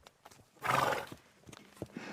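A horse whinnies loudly in a short burst, with soft hoof clip-clops before and after, as a standalone sound effect in a French fantasy tale.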